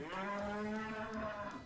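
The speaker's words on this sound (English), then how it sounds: "Why am I hearing cow noises?" A single cow lets out one long, drawn-out moo at moderate volume, with no other sounds around it.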